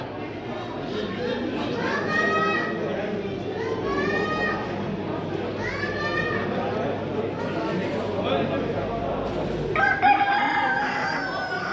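Several roosters crow repeatedly at a poultry show, long strained calls rising one after another over a busy crowd murmur, with someone talking nearby throughout.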